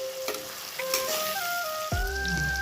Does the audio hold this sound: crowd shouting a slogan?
no